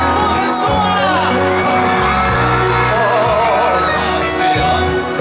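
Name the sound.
concert crowd screaming and cheering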